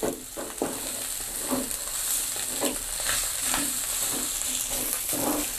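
Fried rice (nasi goreng) frying in a pan with a steady sizzle, broken by repeated scrapes and clanks of stirring at an irregular rhythm, close up with no talk.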